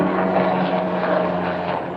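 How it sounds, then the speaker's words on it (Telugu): Army helicopters passing overhead, a continuous loud rotor and engine drone that holds steady for the whole stretch with no voices. "ఇది ఆర్మీ హెలికాప్టర్ అదా తెలిసిపోతుంది ఆర్మీ హెలికాప్టరే"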